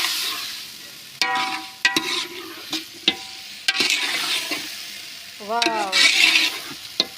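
Mixed vegetables stir-fried in a pan for a fishless Pakistani-style vegetable dish, with a constant sizzle and repeated clanking scrapes of a spatula, plus brief squeaky tonal sounds, close and loud.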